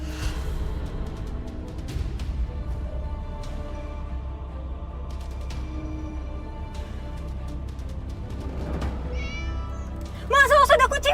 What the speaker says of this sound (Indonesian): awas ada kucing